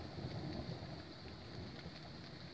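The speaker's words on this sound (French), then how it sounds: "ça fait 3 fois que ça tonne en l'espace de 10 secondes" Steady rain hisses on surfaces during a thunderstorm, with low, soft rumbles of distant thunder underneath. The whole scene is faint and continuous, with no voices.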